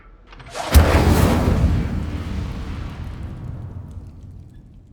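A fire spell bursts into flame in a video game, a sharp whoosh-like blast that swells quickly and then fades into a long, fading roar.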